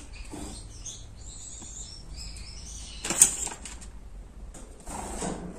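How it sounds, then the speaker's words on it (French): Soft bursts of fluttering wing flaps from small caged birds hovering in place, with faint chirps and light rustling between them, close by and quiet. "le bruit que vous entendez là, ce sont mes oiseaux qui font du surplace dans leur cage"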